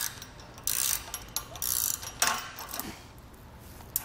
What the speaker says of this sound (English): take a pair of needle nose pliers, we're going to feed the pliers in and clamp down on that lock nut